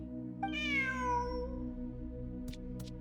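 A cat in the video game Genshin Impact lets out a single drawn-out meow that falls in pitch, clear and close over a steady game music bed, with a couple of small chimes after.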